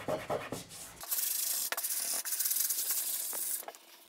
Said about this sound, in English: So that's all sanded up.